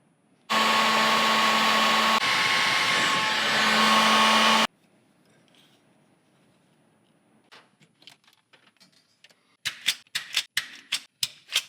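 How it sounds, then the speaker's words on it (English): A soldering gun heats twisted wires with a loud, steady electrical buzz for about four seconds. The buzz then stops, leaving quiet with scattered clicks and a quick run of sharp taps. "I'll heat them up with my soldering gun and add just a little bit of solder"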